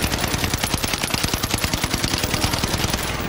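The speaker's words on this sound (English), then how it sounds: "So that's the recoil pattern for the STG." Rapid automatic fire from an STG assault rifle in Call of Duty Warzone, a steady unbroken burst of tightly spaced shots lasting about three seconds, loud and close with no talking.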